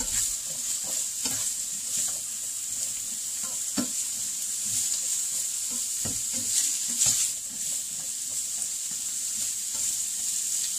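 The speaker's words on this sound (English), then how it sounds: "Now I'm going to stir it in together" Food stirred in a sizzling pan during keto meal prep: a steady frying hiss under soft, irregular scraping and clinking of a utensil against the pan, close-up with no talk.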